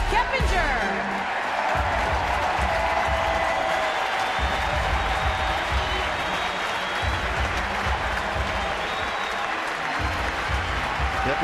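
A ballpark crowd in San Francisco applauds a newly arrived player, Jeff Keppinger, with steady, dense clapping and scattered cheers filling the whole stretch, while a voice talks over it.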